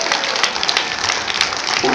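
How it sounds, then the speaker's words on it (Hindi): A crowd applauds at a celebratory program, steady dense clapping that stays loud and continuous for the whole moment. "हम एक बार जोरदार ताली बजाकर"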